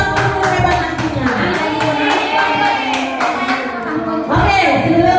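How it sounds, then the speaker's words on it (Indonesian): A group of teachers at a school training session clap in a steady, rhythmic burst of applause that lasts several seconds, mixed with voices and other sound in the room. "Tepuk tangan dulu dong untuk kita semua ya."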